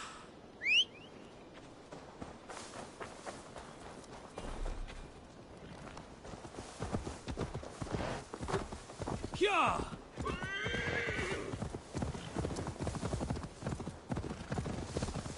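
Hooves clop steadily while a horse neighs several times in Assassin's Creed Valhalla, mixed with game sounds and a voice talking over it throughout.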